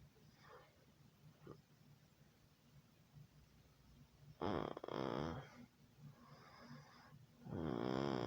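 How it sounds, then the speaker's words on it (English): Two loud, rasping snores a few seconds apart over a quiet room hum, following a stretch of soft breathing. "just made another loud snore"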